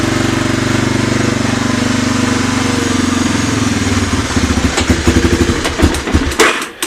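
A 1985 Honda 250SX engine runs steadily after a cold start, a close, loud, buzzing idle that turns rougher and more uneven near the end, with irregular pops and sputters.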